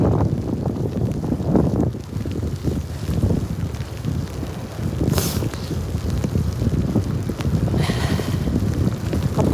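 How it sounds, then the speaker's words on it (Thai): Strong wind buffets a rider cycling to work in the rain, making a steady, loud roar right against the microphone for the whole stretch. "ลมแรงมาก"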